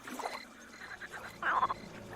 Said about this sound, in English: a chorus of frogs.